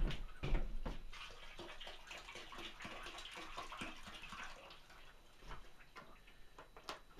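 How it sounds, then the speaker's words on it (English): Hot water tipped from a heated tray onto a pottery wheel, giving a close, uneven splashing and trickling with scattered drips and knocks, moderately loud and fading slightly toward the end. "I'm going to replenish some water from my hot box, my heated tray"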